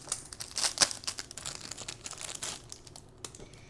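Plastic packaging crinkles and tears as it is unwrapped, a close, busy run of crackles and rustles that thins out toward the end.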